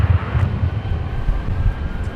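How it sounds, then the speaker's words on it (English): A Delta Boeing 767-300 lifts off from LAX, its engine roar a low, heavy rumble at moderate distance, mixed with gusty wind buffeting the microphone throughout. "There goes our Transcon flight to New York's JFK. Delta 938 lifting off of the Boeing"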